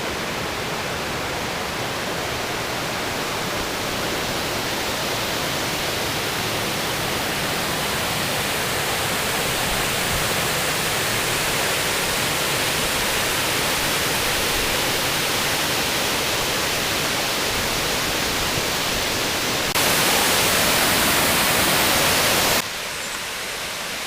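Steady, dense rush of water pouring over the Big Elkin Creek Dam, loud and continuous, with a brief brighter surge near the end; no talking.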